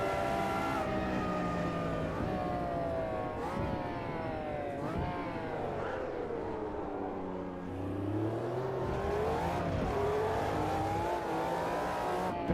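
Formula 1 race cars in the Automobilista 2 racing game at the Red Bull Ring scream through repeated rising and falling gear changes, loud and continuous, with engine pitch sweeping up and dropping through corners.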